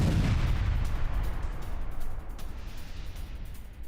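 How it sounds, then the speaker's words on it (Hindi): Artillery fire along a border war front, a heavy boom at the start followed by a long rumbling decay and distant reverberation, no voices. "जहां बॉर्डर से सटे 5 इलाकों में आर्टिलरी अटैक"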